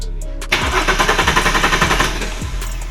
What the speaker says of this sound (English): it's got a mad exhaust, custom one off, never to be seen ever again.